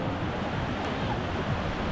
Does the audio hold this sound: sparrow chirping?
no